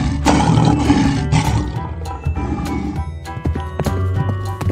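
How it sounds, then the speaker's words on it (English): Lion roars rendered as a loud, growling cartoon-style effect with clattering hoof-like clip-clop and jangling music hits, layered and punchy throughout. "lion"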